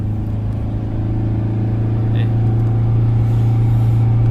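A van engine labours up a steep hill, holding a loud, steady low drone at high revs with a constant strain and no breaks. A voice speaks faintly over it.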